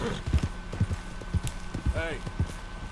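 Horse hooves clip-clop at an uneven trot in Red Dead Redemption 2, loud and close, with a brief high whinny-like sweep midway and faint game sounds behind.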